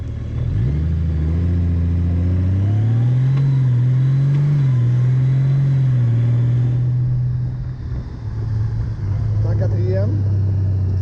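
A 2018 Honda Goldwing Tour DCT motorcycle slows as its automatic gearbox downshifts in a series of steps, the engine's droning note rising briefly and falling between gears before settling into a low idle-like hum.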